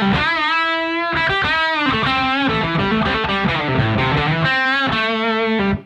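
Distorted electric guitar played rhythm-style through a single-channel Komfort MK50 amp, dense chugging chords with crunchy overdrive, loud and continuous, with no talking.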